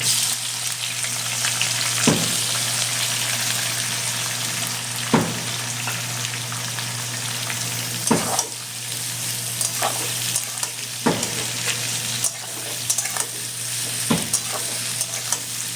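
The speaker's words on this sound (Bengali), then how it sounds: "এবার পেঁয়াজগুলো ভেজে নেব।" Onions frying in a pan of oil with dry red chillies, bay leaves and whole garam masala for mutton curry, a steady loud sizzle with sharp scraping stirs of a spoon every couple of seconds.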